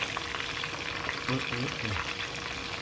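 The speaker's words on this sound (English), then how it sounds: "Now I'll show you how I fry it." Fish fries steadily in a pan, a constant broadband sizzle with some faint harmonic sounds partway through.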